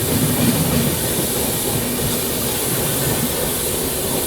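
Amrit Bharat Express train rushing past at high speed, a loud, continuous roar of wheels and wind with rolling clatter that stays dense and steady throughout.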